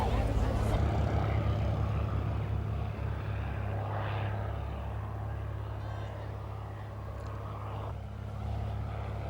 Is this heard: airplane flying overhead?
yes